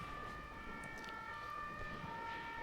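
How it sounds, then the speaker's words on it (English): Sirens wailing outside, steady sustained tones heard faintly at a distance through a room, continuous and even for the whole stretch with no talking. "as soon as I start recording, they start their sirens outside"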